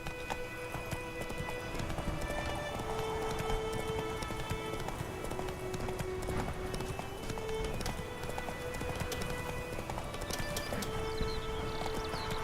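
Horse hooves from The Witcher 3, the mount Roach galloping in a steady rapid clip-clop rhythm, close and continuous, with game music tones and ambience layered underneath.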